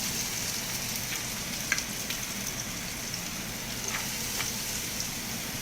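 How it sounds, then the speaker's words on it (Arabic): Chopped onions frying in a pan, a steady soft sizzle and crackle with a few sharper pops, close and even throughout with no voices. "نحمر البصل"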